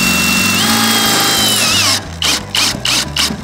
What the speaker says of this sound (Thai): เวลาที่เราใช้ตัวไขควงไฟฟ้านะครับยิงเข้าไป